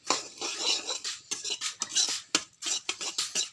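Semolina being stirred in a hot wok with a metal spoon for sooji halwa, a brisk run of scraping, clinking strokes close up with no talking.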